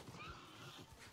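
Horse neighing in the Avatar video game, a short, faint whinny heard alone.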